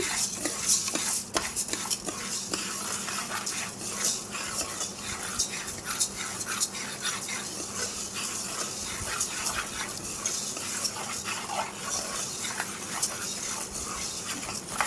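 Black gram (urad dal) dry-roasting in a pan, a steady close scratchy rustle of lentils being stirred and shifted across the metal, continuous with small clinks throughout and no voices.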